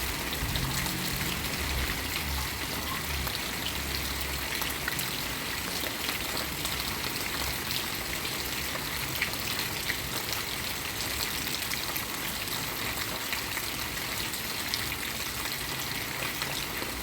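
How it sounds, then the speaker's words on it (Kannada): Heavy rain pours down steadily, a dense, continuous wash of drops and running water that holds at an even loudness from start to finish, with no voices. "ನೋಡಿ ಮಳೆ ಜೋರಾಗಿ ಬರ್ತಾ ಉಂಟು"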